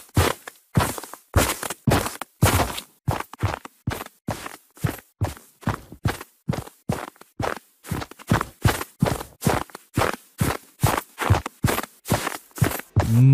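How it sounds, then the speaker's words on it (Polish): Footsteps on snow from the video game Fortnite Battle Royale, a long, steady run of crisp crunching steps, each distinct and evenly paced, close and moderately loud, with no talk. "Kilka gry Battle Royale znajdują się odgłosy kroków po śniegu"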